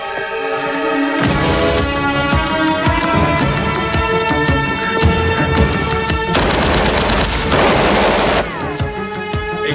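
Loud, sustained gunfire from an action movie firefight, with dense rapid bursts like machine-gun fire and heavy booming shots crowding the whole stretch, surging even harder toward the end.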